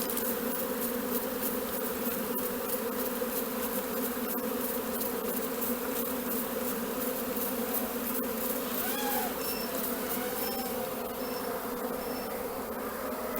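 A honeybee swarm drones loudly around a hive, a dense continuous buzz that holds steady throughout, with a few individual bees passing close and no voices.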